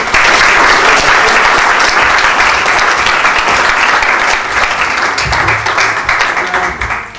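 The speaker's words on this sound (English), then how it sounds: "A big round of applause." Loud, sustained audience applause at a business mixer, dense and continuous clapping filling the room, tapering slightly toward the end.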